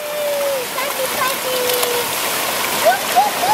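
Water rushing and splashing steadily as a child slides down a water slide, with a voice squeaking and calling over the continuous spray.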